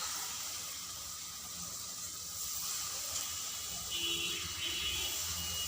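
Mango fritters (pakora) fry in hot oil in a wok on a gas stove, giving a steady, soft, bubbling hiss that stays even throughout.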